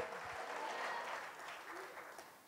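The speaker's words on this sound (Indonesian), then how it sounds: "Tepuk tangan bagi Allah kita." Church congregation applauding during a sermon, a continuous, fairly faint crowd clapping heard from a distance, holding steady before tapering off slightly toward the end.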